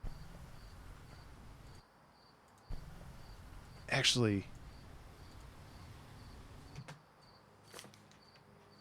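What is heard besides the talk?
crickets chirping outside at night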